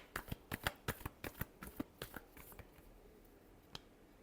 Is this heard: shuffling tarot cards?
yes